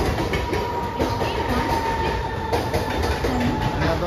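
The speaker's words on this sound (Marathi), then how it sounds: "ट्रेन आली आहे. 9:45 बरोबर ट्रेन आली. दादर स्टेशनवरून आपण निघलेलो आहे." A passenger train pulls into Dadar station in Mumbai with a continuous loud rumble and rhythmic clickety-clack of wheels, heard close by without talk.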